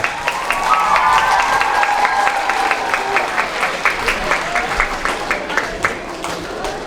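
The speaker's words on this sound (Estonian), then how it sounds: "seega siis veel kord üks suur aplaus žüriile" A school hall audience at a children's playback performance event claps steadily for the jury, a broad wash of applause with distinct individual claps, while a voice speaks faintly over the start.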